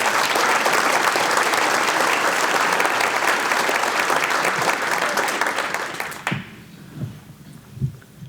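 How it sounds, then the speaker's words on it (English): A room full of people applauds young award recipients at a Kiwanis awards program, a dense steady roar of clapping that holds for about six seconds, then cuts off sharply into quiet room tone with a few faint bumps. "can we give all the young people that are in the room a round of applause"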